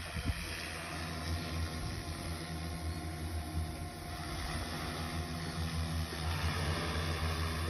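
The engine of a fertilizer-spraying drone, tested over sugarcane fields at a sugar mill, runs after a restart with a continuous, steady motor drone and an even hum throughout.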